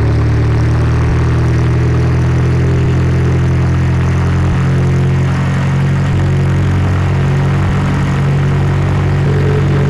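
Light aircraft propeller engine running up to 1700 rpm during a preflight check, a loud, steady, droning roar close by with no talk.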